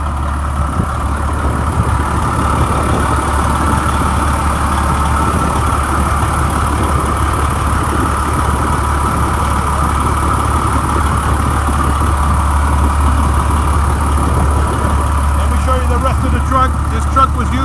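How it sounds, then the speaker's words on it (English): A Detroit Series 60 diesel idles steadily in a retired 1998 Pierce Quantum airport fire truck, a loud, constant low rumble with an even drone and no change in speed throughout. "Motor sounds great. It's got a Detroit 60 series."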